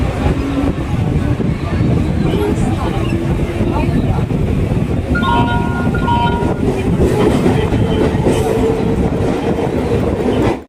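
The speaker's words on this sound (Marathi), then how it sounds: "आपण दादरवरून CSTला जाणारी गाडी आपण पकडणार आहोत" A Mumbai local train runs from Dadar to CST, heard from inside the coach: continuous loud rumble with rhythmic clickety-clack of wheels and wind buffeting, faint voices under the din.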